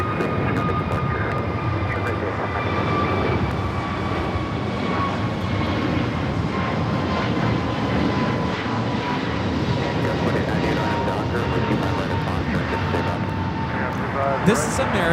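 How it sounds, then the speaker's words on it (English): An American Airlines Airbus A321neo airliner takes off at Los Angeles International Airport, a sustained loud jet roar heard from a distance with people talking over it. "This is American Airlines 636 taking off to Charlotte on the A321neo."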